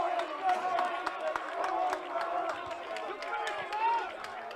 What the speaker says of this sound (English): the Maroon crowd getting on their feet and making some noise here in Lynchburg, Virginia